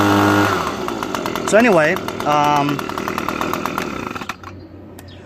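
A running Echo PB250 leaf blower engine, a steady buzzing two-stroke drone at close range that fades off toward the end, with someone talking over it.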